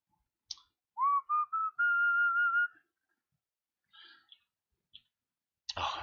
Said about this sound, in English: I just whistled into a spot mic.